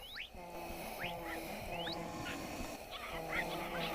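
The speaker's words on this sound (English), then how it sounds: "You hear that little high-pitched groaning and growling? Those are the parrots." Minecraft parrots give repeated high-pitched groaning and growling calls, short rising squeals scattered over a steady game background hum, moderately loud and without talk.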